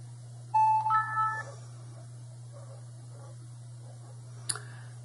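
A smartphone restarting after being rooted gives a short electronic startup chime of a few rising tones over a steady low hum. A single sharp click follows near the end.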